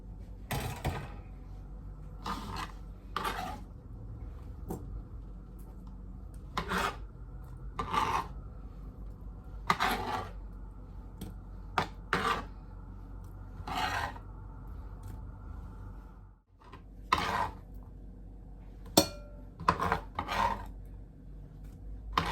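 Fresh ginger is grated for green onion and ginger fritters: a series of dry, raspy scrapes in irregular bursts, fairly quiet and close, over a low steady background hum with no talking.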